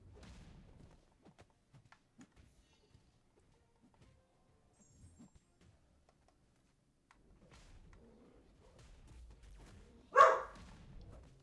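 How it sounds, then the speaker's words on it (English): Single sharp dog bark cutting in near the end, loud against a quiet background of faint clicks and low rumbles, with no talking. "Why is my dog barking?"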